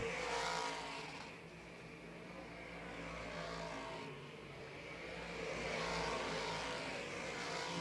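Dirt modified race cars roar around Mohawk International Raceway toward the final lap, a distant, fairly faint engine drone that swells and fades as the cars circle.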